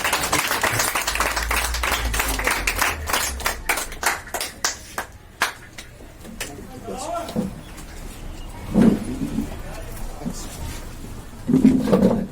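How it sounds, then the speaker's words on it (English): Audience clapping for students at the Cambridge English language institute in Kremshora, Budgam, a burst of close handclaps that thins to scattered claps and then gives way to speech. "Please have once again some more claps from me."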